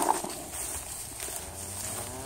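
Cattle on a farm, a herd of fifteen cows and one bull, give a low, sustained moo-like call over a steady outdoor background, moderately near and alone without talk.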